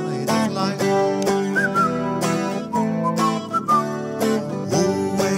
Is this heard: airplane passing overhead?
no